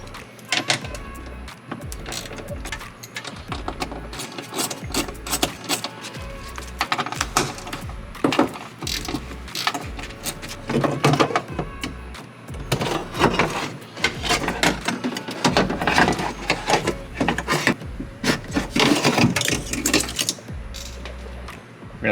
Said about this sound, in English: So now what we're gonna do is we're gonna remove the 10mm bolts.